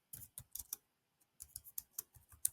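Close, crisp keystrokes on a computer keyboard while typing in Google Docs, two quick bursts of irregular taps separated by a brief pause, alone and fairly quiet.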